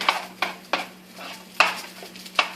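Leftover fried rice and egg are stirred in a hot pan: five or six distinct scraping tosses of a utensil against the metal over a low continuous sizzle, close and fairly loud, with no talking.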